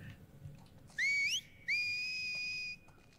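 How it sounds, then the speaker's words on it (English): Two clear human whistles from The Last of Us Part II, a Seraphite signal, each rising in pitch; the second holds a long steady tone, sounding alone against a quiet background. "Her Seraphite whistling."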